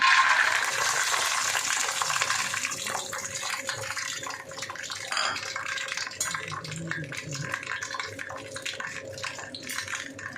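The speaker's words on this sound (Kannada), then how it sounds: "ಇವಾಗ ಎಣ್ಣೆ ಕಾಯ್ದಿದೆ ನಾನು ಫಸ್ಟಿಗೆ ಕಡಲೆ ಬೀಜ ಹಾಕೋತಾ ಇದ್ದೀನಿ" Peanuts crackle and hiss after being dropped into hot oil in a pan, a broad, dense sizzle that starts loud and settles into a steady, slightly quieter frying with scattered pops, close up and with no talk over it.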